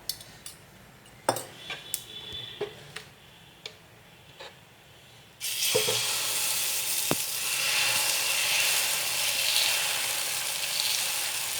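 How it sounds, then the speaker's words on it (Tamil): Greens dosa batter hits a hot stone griddle. A few light ladle taps come first, then a loud, steady sizzle swells and holds close. "கல் காஞ்சிடுச்சுங்க தோசை ஊற்றிக்கலாம்"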